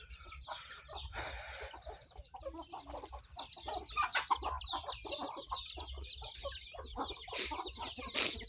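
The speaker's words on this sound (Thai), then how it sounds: "นอนนาเรียกไก่" Chickens clucking outdoors on a rice-field farm, a flock of small and grown birds making busy overlapping clucks and squawks, close and fairly loud, with a couple of sharp louder calls near the end.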